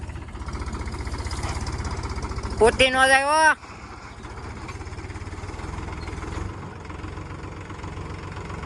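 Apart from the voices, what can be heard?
tractor engine driving up through muddy field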